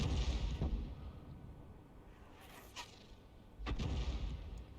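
A 105 leFH18B2 artillery gun in a tank battle video game fires twice, each a heavy booming shot with a rolling tail, the second louder and closer, separated by a quieter rumbling stretch.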